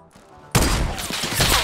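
Gunfire erupts in the Fortnite battle royale shooter after a brief quiet moment, a sudden loud burst of rapid shots with thuds that carries on densely to the end, with a player's voice mixed in.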